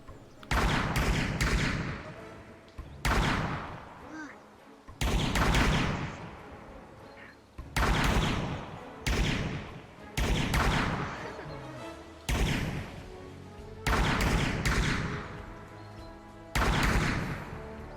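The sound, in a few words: rifles opening fire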